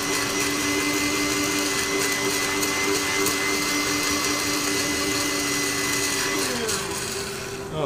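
A Magic Mix handheld mixer runs through a texture mix made with shavings. Its loud, steady motor whine holds close throughout, then dips in pitch near the end.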